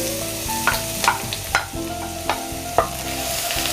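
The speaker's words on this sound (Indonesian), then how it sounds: "Saya akan tumis dulu bawang putih yang sudah saya persiapkan sebelumnya" Coarsely chopped garlic sautéing in a pan for chicken ragout risoles, with a steady sizzle broken by several sharp spatula scrapes and knocks over a tuneful musical backing.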